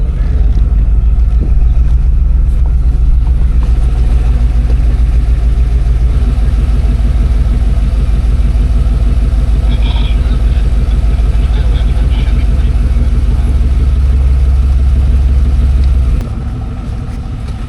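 An off-road vehicle's engine rumbles steadily at idle near an off-road park trailhead, loud and close throughout with a deep low drone that eases slightly near the end, and faint voices partway through.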